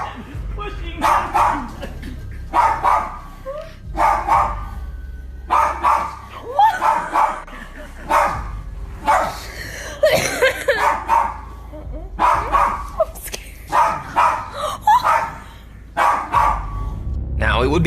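A dog barks repeatedly and frantically, close and loud, in rapid bursts with yips and whimpers, while people talk over it throughout.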